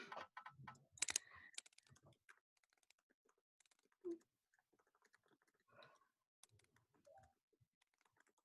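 A computer keyboard clicks in scattered bursts of typing, quiet and close, with pauses between runs of keystrokes.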